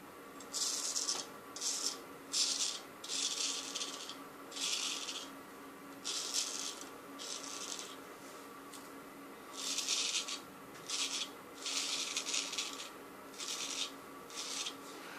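A straight razor scrapes through beard hair close up, making repeated short rasping strokes in an uneven rhythm, each burst a crisp, dry scratching sound with short quiet gaps between, and no one speaking.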